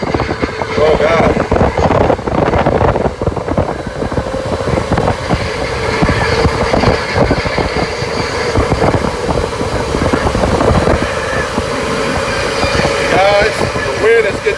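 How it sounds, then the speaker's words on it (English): Strong gusts reaching around 115 mph batter a house, a loud, rough rushing roar that buffets the microphone continuously and rises and falls in bursts throughout. "the wind is getting crazy in here"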